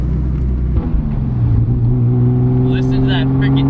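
A big-turbo 2JZ engine in a Toyota Supra Mk4 rumbles loud and close, its pitch climbing steadily as it revs, with someone talking over the engine near the end.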